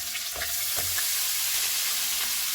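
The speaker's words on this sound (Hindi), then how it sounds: "ऑयल गर्म हो गया है, इसमें कीमा डालेंगे।" Minced meat hitting hot oil in a pan sends up a steady, close sizzle, with a few sharp bursts of spatter and scraping as it is stirred.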